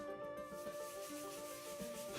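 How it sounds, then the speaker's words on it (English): Parchment for a Torah scroll is sanded by hand, a soft continuous rubbing and scraping texture in short repeated strokes, close and fairly quiet, with a faint steady tonal hum running underneath. "Scribes like Asaf Levi start by sanding the parchment and then sprinkling it with chalk"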